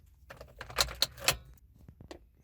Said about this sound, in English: Watch what happens when I put in the key that came with the car.